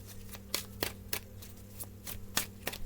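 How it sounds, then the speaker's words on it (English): Tarot cards are shuffled and pulled close by, making crisp, irregular slaps and riffles with short pauses between them, over a faint steady hum with no talk. "Let's pull some more cards."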